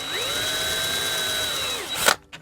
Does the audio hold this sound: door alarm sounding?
no